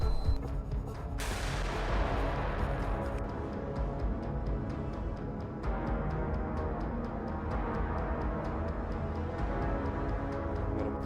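Tanks fire as they clear paths through a forest during a Ukrainian assault, with a sharp blast early on followed by a dense, rumbling stretch of repeated firing and crackling under constant low battlefield noise.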